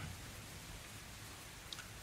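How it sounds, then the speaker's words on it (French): Light, cold September rain falling steadily outdoors, a soft continuous patter of drops with no voices, fairly quiet and even throughout with one small louder drop near the end. "tu commences à entendre le petit doux clappement de la pluie qui commence à vous tomber sur la tête"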